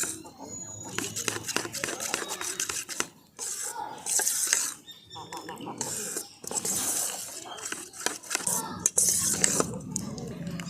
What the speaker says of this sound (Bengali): এই 2 চামচ সাদা তেল দেওয়ার পরেও আমি ব্যাটারটাকে খুব ভালো করে মিশিয়ে নিচ্ছি।